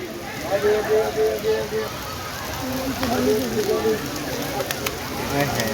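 Heavy rain hisses steadily at Khanabari railway station while a person talks over it.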